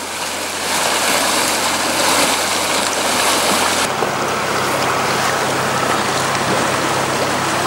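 Rushing river rapids crashing and splashing steadily over a timber raft with an outboard motor, a loud, dense roar of water that continues without break, with no talking.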